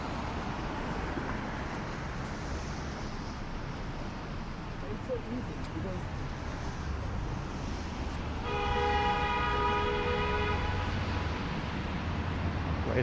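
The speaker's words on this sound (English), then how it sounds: "White SUV honking up a storm." A white SUV's car horn honks in a steady held blast on a busy North York, Toronto street in the evening, loud over constant traffic rumble.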